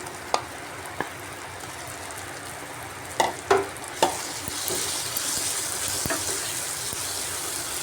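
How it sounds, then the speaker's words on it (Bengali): Fried potatoes and spices sautéing in a pan for a jackfruit curry, with a continuous bright sizzle and a few sharp spoon knocks and scrapes against the pan, close by, no voices. "আলু দিয়েও একটু সময় কষিয়ে নিচ্ছি মশলাটাকে"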